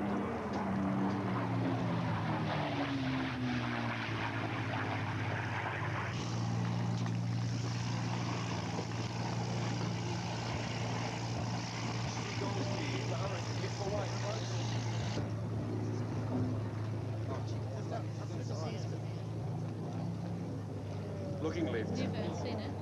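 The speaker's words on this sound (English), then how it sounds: "There's the Spitfire." A Spitfire propeller fighter flying at the Warbirds Over Wanaka air show, a steady droning engine hum with changing pitch over the whole stretch, partly under crowd and commentary voices.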